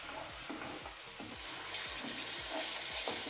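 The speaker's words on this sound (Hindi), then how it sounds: "इसे ऐसे ही चलाते हुए भून लें।" Onions and tomatoes frying in a pan for a spinach and corn vegetable dish, with a steady hiss of sizzling under repeated scraping strokes of a spoon, about two stirs per second, close and continuous.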